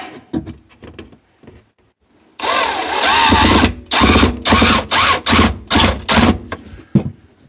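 After some light tapping and handling, a power drill whirs loudly up close, first in one long run, then in several short, rhythmic bursts.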